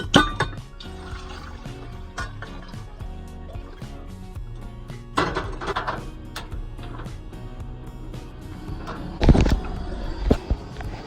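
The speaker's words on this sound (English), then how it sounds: "I just put a bunch of water in this saucepan." Water splashing and pouring into a saucepan in a home kitchen, with irregular clatters and bursts of liquid noise, a loud splashy surge near the end, close and without talk.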